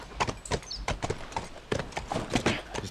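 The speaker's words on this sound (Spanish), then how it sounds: "Vale, se llama Calus el caballo." Horse hooves clip-clopping at a steady walking pace in The Last of Us, repeated close, sharp footfalls across the whole stretch with no talk over them.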